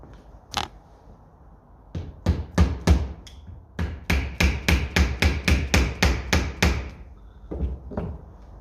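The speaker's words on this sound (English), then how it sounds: "You can get a plastic hammer at it there now," A plastic hammer taps on the starter of a 1957 Ferguson FE35 TVO tractor: a few scattered knocks, then a rapid run of about a dozen evenly spaced, sharp, close blows, followed by two more taps.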